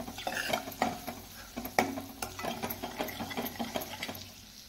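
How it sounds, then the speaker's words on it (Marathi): Spices being stir-fried in oil for a Maharashtrian katachi aamti, heard as a steady soft sizzle with repeated scraping and stirring taps of a spoon against the pan, close and without speech. "हे सर्व मसाले जे आहेत ते आपण तेलावर छान परतून घेऊया"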